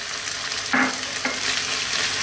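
Tomatoes go into a pan of lamb, closer to mutton, frying over medium heat; a steady hiss of sizzling carries throughout, with a brief stir or clatter as they drop in.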